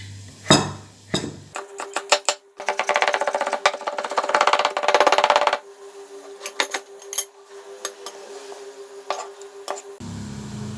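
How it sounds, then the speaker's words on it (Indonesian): A knife chops garlic on a board, a run of quick close taps and clicks that come in bursts, broken by short pauses and some clinks from kitchen utensils. "Sekarang kita rajang bawang putih."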